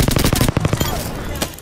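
Automatic weapon fire in Apex Legends, rapid evenly spaced shots in a close, loud burst that thins into scattered trailing shots.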